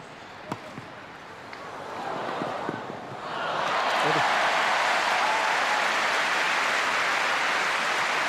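Wimbledon crowd erupting into applause after a brilliant rally in the 1991 women's final, a few thuds first, then swelling into loud sustained clapping and cheering from a large stadium audience.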